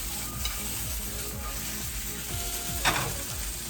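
Green beans and sliced mushrooms sauté in a hot pan, giving a continuous close sizzle with soft scraping and stirring and a brief louder crackle near the end, without talk.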